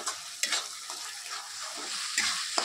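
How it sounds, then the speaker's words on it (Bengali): A spice mix with Kashmiri chilli powder frying in a pan for khichuri sizzles steadily and close, with a few short scrapes of a spatula stirring through it. "সব মশলা ভালো করে মিশিয়ে আমি আবারও 2 মিনিটের মতো একটু কষিয়ে নেব"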